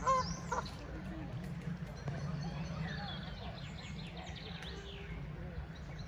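Ducks and geese on a park pond, with a loud honk at the start and scattered calls afterward over a low outdoor murmur, fairly faint and at a distance.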